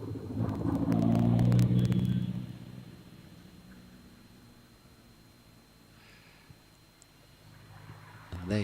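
Race cars coming back down the Wiscombe Park hillclimb course at a British Hillclimb Championship event rumble past, loud up close at first and then fading into the distance, with a low engine note that rises again at the end and people talking over it.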